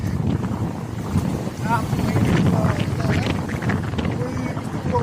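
Strong wind roars and gusts across the microphone throughout, a heavy continuous rumble with a person talking underneath.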